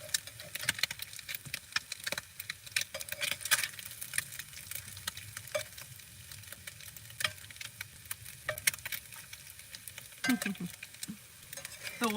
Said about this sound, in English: Then I have to fry up the bread